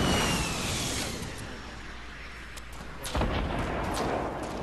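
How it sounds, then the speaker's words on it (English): Grenade blasts in the Fortnite video game, a dense rumbling wash of booms with a sharper burst near the end, heard without talk. "Okay, so I'm throwing grenades over there."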